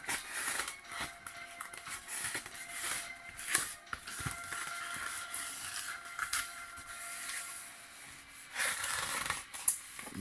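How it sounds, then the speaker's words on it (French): Quiet scraping and crinkling close by, with short tearing and rustling bursts as a knife lifts and cuts tape off polystyrene packaging, irregular and fairly faint. "muni d'un couteau, on enlève délicatement les scotch du polystyrène"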